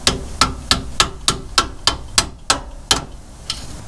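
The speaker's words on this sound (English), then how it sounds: "He's gonna tap the bolts out with the mallet." A mallet taps bolts out of an axle during an e-locker axle swap, giving about eleven sharp, evenly spaced knocks. Each close, crisp strike rings briefly before the next.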